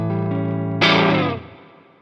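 Electric guitar through a J. Rockett Uni-Verb reverb pedal set to a long dwell: a sustained chord, then a bright strummed hit that rings out and slowly decays into a lingering reverb tail, played alone.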